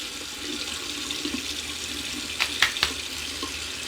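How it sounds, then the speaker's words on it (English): Warm tap water runs steadily into a bathroom sink as a man wets his face before a wet shave, with a few brief louder splashes near the end and no talking. "I'm going to wet my face just a little bit with some warm water"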